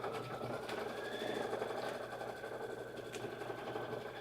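A computerized embroidery machine stitches out a Halloween-themed quilt block design in a steady, continuous mechanical whir with rapid needle chatter, moderately close and alone throughout.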